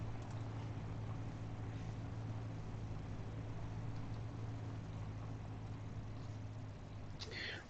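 A video game vehicle's engine runs steadily with a low, continuous hum and rumble, holding even and fairly quiet throughout.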